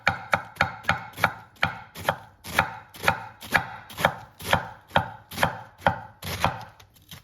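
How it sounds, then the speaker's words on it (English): A knife cuts an Italian sandwich into thin slices, giving a steady run of about eighteen crisp, close chopping strokes against a board at an even pace with no talking. "And then I like just real thin slices here."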